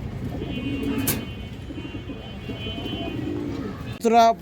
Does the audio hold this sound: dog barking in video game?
no